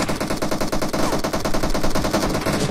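Rapid bursts of automatic gunfire in the battle-royale game PUBG Mobile during a squad match, loud and continuous with dense rattling volleys filling nearly three seconds.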